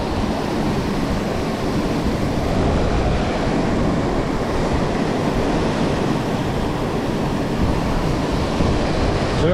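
A waterfall at a stream fishing spot for Korean aucha perch, giving a loud, steady roar of rushing water that stays close and constant with no voices over it.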